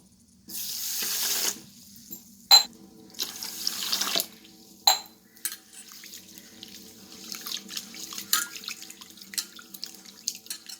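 Kodo millet being rinsed in a sink under a running kitchen tap, water gushing and splashing in bursts with clinks and drips between pours, close and fairly loud, no talking.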